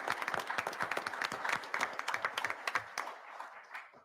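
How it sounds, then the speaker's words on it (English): An audience claps for an honoree at a Brevard County school board meeting, a moderately close burst of dense, crisp applause that thins out and fades over the last second. "Let's give him a round of applause for this."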